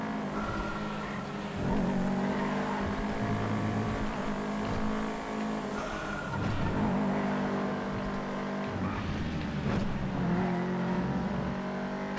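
A Sultan Classic JTCC touring car in a GTA FiveM race hums with a steady droning engine, revs rising and falling through gear changes, heard alone at moderate level.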